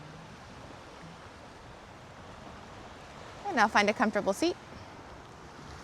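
Ocean waves wash steadily in a broad, even roar along the shore, with someone speaking calmly over them partway through.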